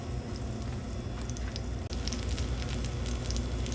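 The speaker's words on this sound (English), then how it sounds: "once that butter is nice and hot, we're right in with our schnitz" Pork schnitzel fries in hot butter in a pan, a steady close crackling sizzle with tiny popping spatters throughout and no talking.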